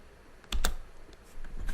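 A computer keyboard is typed on up close in a few separate sharp clacks, one louder pair near the start, with quieter taps after it over a faint background hiss.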